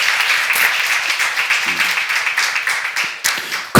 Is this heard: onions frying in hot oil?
no